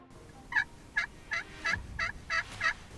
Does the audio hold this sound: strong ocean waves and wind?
no